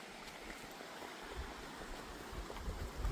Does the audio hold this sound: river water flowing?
yes